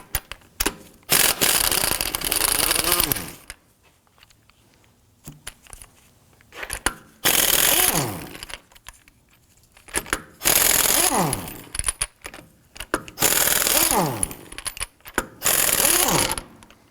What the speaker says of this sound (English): Using a 19mm thin wall socket, I'm going to go ahead and loosen and remove our lug nuts and our locking key.